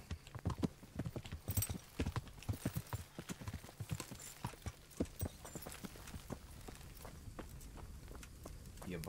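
Horse hooves clopping in a steady, brisk rhythm while riding in the video game Kingdom Come Deliverance, close and continuous over a low outdoor ambience.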